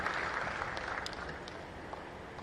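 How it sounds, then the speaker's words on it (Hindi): An audience at a government-inaugurated crafts fair applauds, a fairly faint, steady wash of many hands clapping heard from some distance, with no talk over it. "एक बार जोरदार तालियां"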